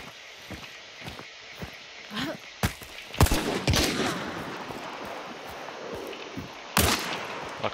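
Gunfire from the Hunt: Showdown video game rings out as scattered sharp shots and a louder burst, with footstep-like rustles and a faint voice between the reports.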